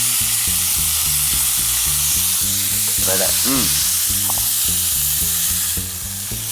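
Smoked cherry duck pan-frying for a pickled cabbage and glass noodle casserole, a loud, dense sizzle running throughout beneath a regular pulsing rumble of kitchen machinery, with a brief squeaky scrape in the middle.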